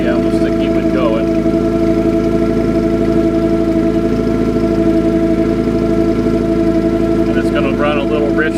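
A car engine without a choke is held at about 1,500 RPM, running a little rich, with a loud, steady, close drone that holds constant throughout while a person talks over it.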